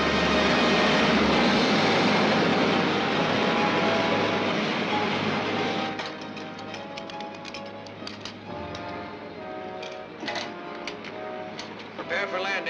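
A propeller aircraft comes in to land in a 1953 Commando Cody science-fiction serial, a loud, steady engine drone that drops slightly and continues under clattering and other effects.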